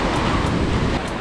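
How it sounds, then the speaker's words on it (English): Ocean surf rolls onto the beach at Anna Maria Island, a loud, continuous wash of breaking waves mixed with gusty wind buffeting the microphone, with no voices. "listen to the ocean"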